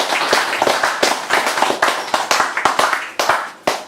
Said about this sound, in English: So more applause, please, for Clare.